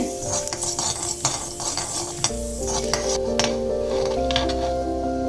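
Oil sizzles steadily in a pan while a spoon stirs and scrapes during cooking of togarikalu uppitu, with frequent close clinks of the utensil against the pan over a faint steady hum.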